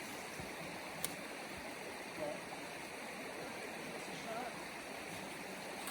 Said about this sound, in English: And we got our first river crossing here.